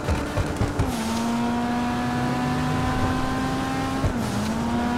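A Lamborghini driven in GTA 5 gives a loud, steady engine drone with shifting pitch, alone with no talk.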